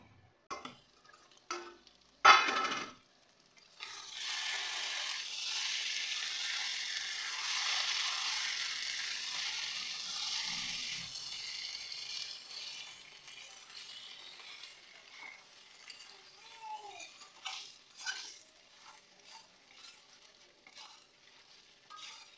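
Meat sizzles and crackles in hot oil in a pan, with a few sharp utensil knocks at the start, then a long steady fry that slowly fades into intermittent scraping stirs.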